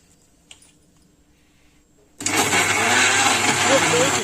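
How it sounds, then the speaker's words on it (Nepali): A mixer grinder jar whirs into a loud, steady grinding of vanilla ice cream mixture, starting abruptly after two seconds of near silence and running on strongly, close up. "ल हामीले अब मिक्सी जारमा चाहिँ पिस्दाखेरि पनि एकैचोटि पिस्नु हुँदैन, बिस्तारै बिस्तारै गर्दै पिस्नुपर्छ।"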